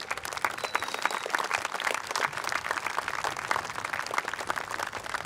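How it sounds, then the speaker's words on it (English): A crowd gathered outdoors for a Veterans Day ceremony at the Mt. Soledad Memorial gives a big round of applause: sustained, crackling clapping that holds steady throughout at a fair distance. "Can I get a huge round of applause?"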